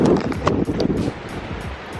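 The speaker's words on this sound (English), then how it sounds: "I know it's a bit windy right now." Wind buffets the microphone on a Jamaican beach, a low rumbling roar that is loudest at the start and then settles into a steadier gusty hiss.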